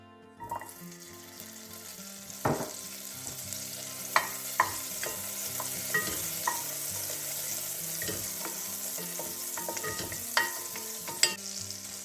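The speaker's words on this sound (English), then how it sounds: "Okay, so just get your pot on, get it nice and hot. I'm going to go in first with some butter." Thirty grams of butter melting in a hot pot, giving a steady soft sizzle with occasional sharp pops and stirring clicks throughout, with no talking.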